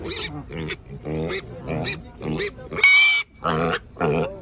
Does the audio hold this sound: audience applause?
no